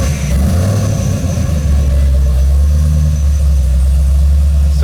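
Car engine running on alcohol fuel while warming up, a loud, close, steady low rumble with a slight lumpy idle and a brief rise in pitch partway through, with no talking.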